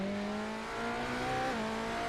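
Onboard race car engine in a racing video game at Sebring, a loud steady high-pitched drone with a brief pitch dip and recovery, dominating the clip without speech.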